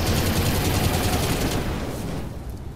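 Dense, sustained machine gun and flamer fire from BattleTech combat, a continuous loud rattling barrage that fades slightly toward the end with no talk over it.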